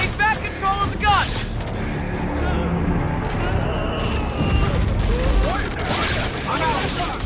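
Gunfire and explosions in the first-person shooter Call of Duty: Infinite Warfare, a dense continuous battle din of shots, booms and mechanical noise with brief voice-like calls over the mix.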